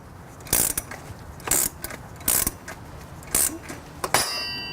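A puller is turned on the camshaft sprocket of an Audi bi-turbo engine during timing belt work: several loud, sharp ratcheting clicks in evenly spaced bursts, then a final sharp metallic release as the sprocket pops loose.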